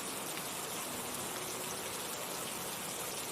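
Steady, soft rainfall on a cold day hisses evenly throughout, a faint, unbroken wash of falling drops with no talking.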